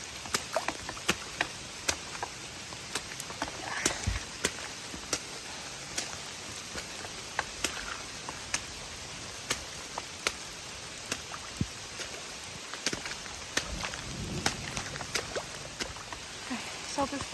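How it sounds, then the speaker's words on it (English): Steady rain falls on the Appalachian Trail near the Massachusetts–Vermont border, a continuous close patter of drops with scattered sharper taps throughout. "I was within 15 minutes of it starting to rain. It's dying down a little bit."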